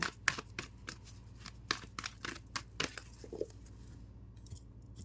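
Tarot cards shuffled and drawn by hand, a quiet run of quick flicking and riffling snaps close by, thinning out toward the end, with no talk.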